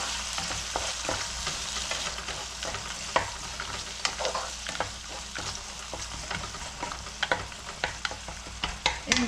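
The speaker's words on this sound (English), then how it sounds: "Let's give a quick mix to it." Spiced brinjal rice mixture with tamarind pulp stirred in a hot pan, a steady sizzle broken by repeated scraping strokes of the spoon, close and continuous.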